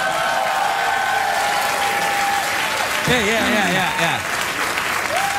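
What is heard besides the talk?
studio audience applause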